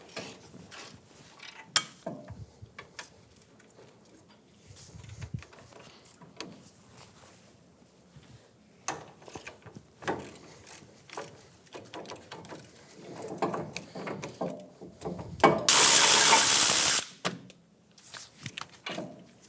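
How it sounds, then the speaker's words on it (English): A ratchet with a 21mm socket loosens the caliper bracket bolts on a 2007-2017 Ford Expedition front brake, heard as scattered metallic clicks and clunks, then a brief loud burst of rapid ratcheting near the end, no talking. "Using a 21mm socket, remove the caliper bracket bolts"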